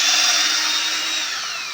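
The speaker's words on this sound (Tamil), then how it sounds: "நல்லாவே வுட்டில் நல்லாவே ட்ரில் பண்ணுது" Electric drill boring into wood, a steady high-pitched whine of the motor with grinding bit noise, close and loud throughout, no voices.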